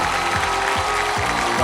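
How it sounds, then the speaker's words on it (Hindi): Studio audience applause for Aamir Khan and Sunny on a TV quiz show set, steady dense clapping filling the whole short stretch with no talk over it. "big hand for Aamir Khan and Sunny"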